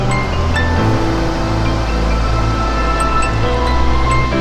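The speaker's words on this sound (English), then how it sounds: "That's the lower waterfall." The lower waterfall at the Grand Canyon of the Yellowstone, seen from the south rim, gives a steady, distant roar of rushing water that holds constant throughout with no break.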